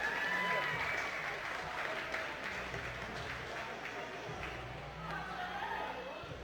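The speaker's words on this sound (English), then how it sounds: "We got a lot of cheers from the crowd for Bimini" A crowd at a climbing competition applauds and cheers for a climber, a broad wash of clapping and voices that is loudest at the start and eases slightly, with announcer talk running over it.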